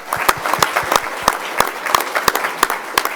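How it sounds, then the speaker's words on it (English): At a school board meeting, an audience applauds the new high school principal, a moderately sized crowd clapping with distinct individual hand claps standing out over a steady bed of applause. "round of applause for him"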